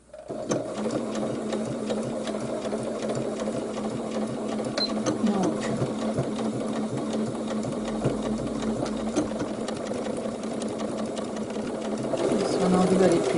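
A sewing machine stitches fabric for an apron, humming in a steady continuous whir close by from start to finish while a person talks over it.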